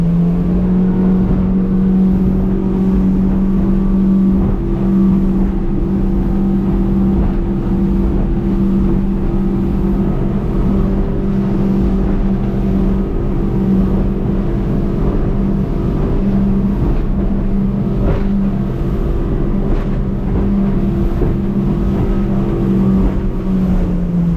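A Warrior 175 motorboat engine roars at wide open throttle, about 5,800 rpm at 30 knots, a loud, constant high-revving drone with the rush of the hull over water throughout.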